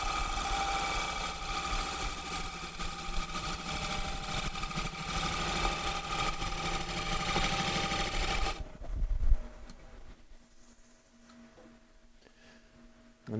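A wood lathe turns punky maple while a gouge makes a shearing finish cut, a steady loud broadband whir and scrape for about nine seconds, then dropping to a faint motor hum as the cut stops.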